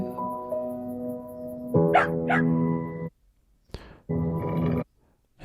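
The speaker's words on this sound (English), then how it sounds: "The dog is calling to the horse" A dog in a Budweiser lost-dog commercial gives a couple of drawn-out howling barks and whines, loud and close, with a short sharp yelp after a pause and one more sustained call.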